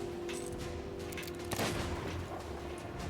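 A sharp sniper-rifle crack bursts out mid-clip in the pirate game Sea of Thieves, set against a busy ambient wash of wind and water with scattered smaller hits around it.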